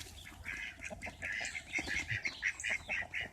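Nearby ducks give a quick series of nasal quacks mixed with goose honks, a dense, uneven chatter of several birds close together.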